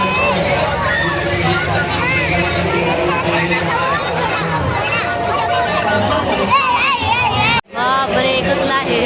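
A dense crowd at the Solapur Gadda fair, loud continuous hubbub of many voices, chatter and children shouting close around, with a brief dropout near the end.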